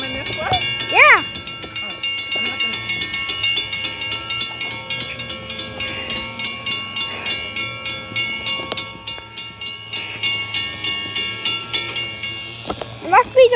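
Trains roll through the 17th Street crossing with a steady rhythmic clatter of wheels over the rails, a sharp horn blast near the start and crossing bells ringing, while people talk nearby.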